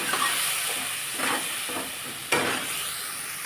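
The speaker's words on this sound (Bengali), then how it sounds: "এটাকে এবার একটু ভাজতে হবে।" Ginger, onion and garlic paste frying in a pan: a steady close sizzle with a few louder bursts as the paste is stirred and hits the hot oil, no talk.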